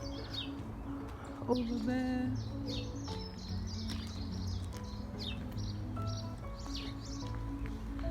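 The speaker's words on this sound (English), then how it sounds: "So you can hear the birds chirping in the background." Birds chirp and call faintly in the background of a quiet early-morning walk to work, a few scattered tweets and a dove-like coo over low ambient noise, with brief speech.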